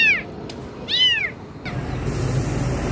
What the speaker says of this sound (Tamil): கத்தாதம்மா கத்தாத குட்டி பூனை.